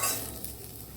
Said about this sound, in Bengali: কড়ার মধ্যে সব মশলাগুলো দিয়ে 2 থেকে 3 মিনিট ভাজা করে নেব।